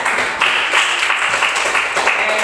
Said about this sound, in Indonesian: Tepuk tangan untuk pintar.